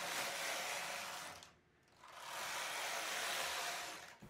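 Knitting machine carriage working rows of a hat, 100 stitches cast onto waste yarn: a steady, close mechanical swish with a whirring, ratcheting texture. It sounds as two long sweeping passes separated by a brief quiet gap.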